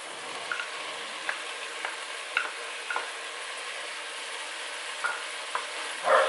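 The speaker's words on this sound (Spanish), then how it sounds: "Y seguimos removiendo." Bacon frying in a pan with other ingredients for a homemade pea dish, a thin, even sizzle with light intermittent taps and scrapes of a stirring utensil, a slightly louder scrape at the end.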